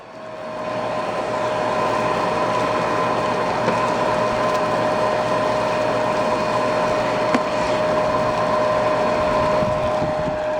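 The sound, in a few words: Dirt Devil Power Reach vacuum running, suction at hose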